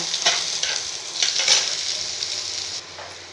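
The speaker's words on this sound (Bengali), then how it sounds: "আলুটা ভালো করে ভেজে নেব।" Diced potatoes fry in hot oil with a bright, steady sizzle and several scraping stirs of a spatula, nearby and unaccompanied by speech, cutting off near the end.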